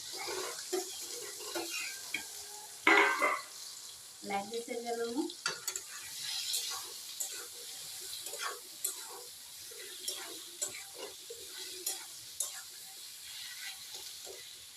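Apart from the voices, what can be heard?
taro stems frying and stirred in pan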